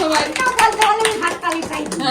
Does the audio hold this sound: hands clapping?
yes